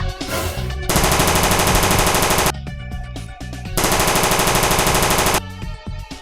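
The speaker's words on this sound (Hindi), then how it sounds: "बंदूक के गोलियों की आवाज सुनाई देती है" Loud, continuous bursts of rapid machine-gun fire in two long volleys separated by short gaps, close and dominant with no talk.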